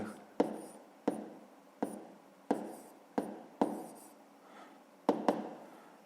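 Someone writes out a fifth-grade maths solution, making a quiet series of short, crisp strokes and taps at a fairly steady pace, with no talk.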